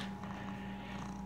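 A cat purrs steadily and close up, a continuous low rumbling hum with no break and no voices over it.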